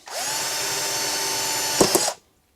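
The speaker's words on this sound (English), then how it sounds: "Why is that so hard to drill?" A power drill whines steadily for about two seconds, straining briefly near the end before it stops, leaving silence.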